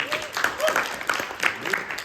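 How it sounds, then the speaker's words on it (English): An audience at an academic forum applauds Tanner with a light, scattered patter of clapping mixed with crowd murmur and a host's voice talking over it. "one more round of applause for Tanner"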